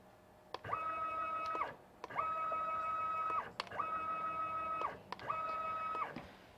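A CNC machine spindle jogs up and down at maximum jog rate, four evenly spaced runs of steady stepper-motor whine, each lasting about a second with ramped starts and stops, clear and alone.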